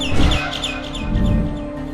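Birds chirp in the video game Garten of Banban 6, a run of quick, bright tweets repeating over a low ambient drone, fairly close and clear, with no talking.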